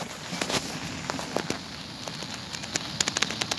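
The flooded Ulhas River surging over a submerged bridge: a continuous broad rush of water with scattered sharp splashes and crackles, fairly close and steady, with no talk.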